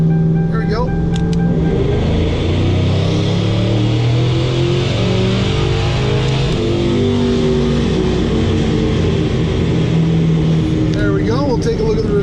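Supercharged Mercury Marauder engine held at a loud, droning roar on a dyno pull in second gear, with a steady heavy drone that rises and shifts in pitch and briefly climbs near the end.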